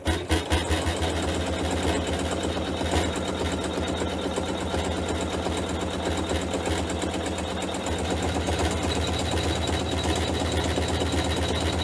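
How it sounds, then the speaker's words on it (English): An embroidery sewing machine stitches the back piece of a zipper bag with a fast, steady mechanical chatter that runs loud and continuous throughout, with no speech. "So I'll hook this back in the machine and stitch that next step."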